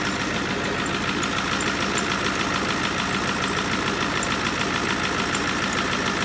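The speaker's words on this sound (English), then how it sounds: "look over the engine while it's running, looking to see how it handles the temperatures, the cooling" An engine running steadily during a test, a loud, even mechanical drone with a fast rhythmic knock-like pulse, constant for the whole stretch with no talk over it.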